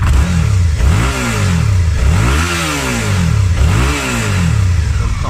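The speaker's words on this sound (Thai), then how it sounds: "เดี๋ยวฟังเสียงเครื่องยนต์กับเสียงท่อกันนิดนึงครับ" A 2018 Suzuki V-Strom 650 motorcycle engine revs up and down repeatedly, the exhaust note rising and falling in loud, close swells.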